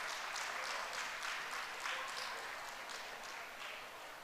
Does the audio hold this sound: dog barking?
no